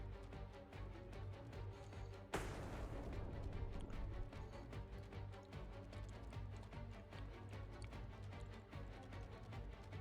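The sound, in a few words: aircraft firing a missile in the Xenonauts 2 video game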